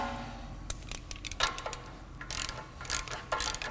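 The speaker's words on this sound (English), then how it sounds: "Nut on the bottom of the hub ball joint can now be tightened." Ratchet clicking as a nut is tightened on the bottom of the front lower suspension wishbone hub ball joint of a Land Rover Discovery, short quick bursts of pawl clicks separated by pauses, close and fairly quiet.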